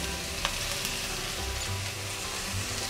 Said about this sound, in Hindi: फ्लेम हम अपना स्लो रखते हैं, इसको 10-15 सेकंड दे के साथ ही हम डालते हैं अपनी प्याज जो हमने बिल्कुल बारीक काटी है।